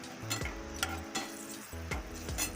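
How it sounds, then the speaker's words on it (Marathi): Turmeric briefly fries in hot oil under a few scraping stirs of a spoon against the pan, with a soft sizzle and a steady low tone beneath, close and moderately quiet with no voices. "थोडीशी हळद भाजून घेऊया आपण, थोडीशी 1-2 सेकंद. तेलामध्ये ती परतली"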